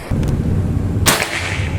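A single sharp shot from a Predator OD 38 air rifle during an accuracy test cracks loud and close after a stretch of steady background hum.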